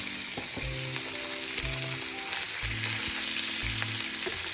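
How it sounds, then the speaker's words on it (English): Pork belly frying in hot oil in a wok for a Chinese dish, giving a steady dense sizzle throughout with soft, regular clinks from stirring utensils against the pan. "Once the oil gets hot enough, you add the pork belly."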